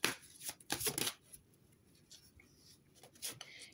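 Angel oracle cards are shuffled in close, crisp bursts of riffling and sliding, followed by quieter handling noises.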